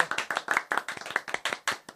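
Audience applause erupts at a live hardcore punk show, captured on a 1999 album recording from Tandil; a small crowd claps in sharp, distinct, irregular hand strikes, close and fairly loud, with no talk over it.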